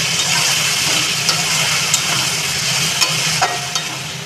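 A ginger, garlic and onion paste fries in a pan for a chicken curry, making a loud, dense, steady sizzle with a few faint stirring clicks and no talking.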